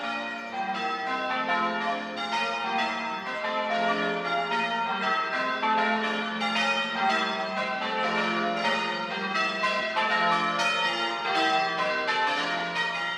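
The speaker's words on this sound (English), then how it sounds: "The church bells were ringing in the churchyard" Church bells ring continuously in overlapping peals in a British churchyard during a festival, a full, steady clangor with no voices.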